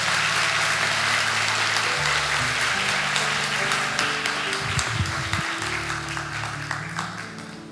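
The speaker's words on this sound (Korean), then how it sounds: "우리 큰 박수로 환영하도록 하겠습니다" A church congregation applauding to welcome guests during a Sunday worship service, a sustained wash of many hands clapping in a large room, steady and fairly loud, slowly tapering toward the end.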